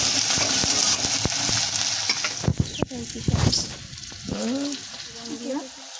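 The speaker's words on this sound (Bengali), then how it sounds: "পেঁয়াজটাকে কিন্তু আমরা আগে ভালো করে ভেজে নেব।" Onions fry in a pan with a loud, continuous sizzle, and stirring strokes scrape and knock against the pan, with brief tonal sounds in the second half.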